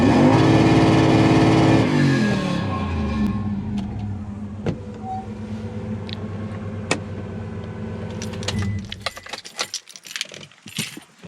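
A Toyota 3UZ-FE V8 engine swapped into a KUN26 Hilux revs hard at first, then settles into a steady idle, with small clicks and rattles toward the end.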